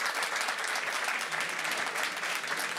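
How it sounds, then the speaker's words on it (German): A comedy club audience in Berlin applauds steadily, a dense, continuous wash of many hands clapping for about three seconds with no voices on top. "Einmal kräftig klatschen, bitte, die Vergebenen."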